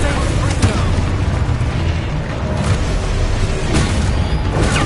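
Spell explosions in the video game Hogwarts Legacy: a dense, continuous barrage of booming blasts and bursts rolls on for the whole span, loud and close, with a few sharper cracks standing out from the rumble.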